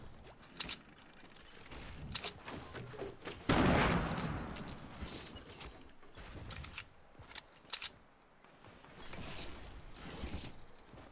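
Minigun fire from the video game Fortnite comes in bursts, with a loud sustained spray of rapid shots early on and more scattered sharp reports and mechanical clatter afterward.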